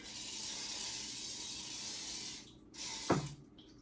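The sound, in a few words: spraying ant spray in kitchen cupboard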